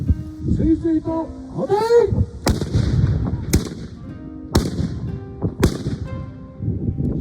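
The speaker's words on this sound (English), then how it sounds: "Once the charge is set, the firing mechanism is set, the match is put into position, and the gun opens fire." Japanese matchlock guns firing at a castle demonstration, four sharp loud reports spaced about a second apart, each with a rumbling echo, after crowd voices and a chanted command at the start.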